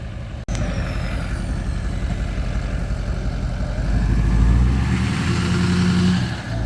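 Truck engine running while maneuvering to turn around with a gooseneck trailer on a narrow trail road, a steady low rumble close by that swells louder toward the end after a sharp click at the start.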